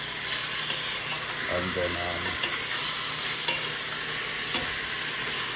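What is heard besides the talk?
browning sizzling in hot pot for oxtail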